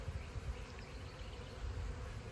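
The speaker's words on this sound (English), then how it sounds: "Bees are coming and going." Bees buzz around a swarm trap outdoors, a low, steady hum of insects coming and going, faint and continuous without talk.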